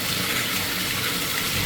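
Shower water runs steadily in a hotel bathroom, a continuous loud hiss and splash as it falls and pools on the floor, with no voices.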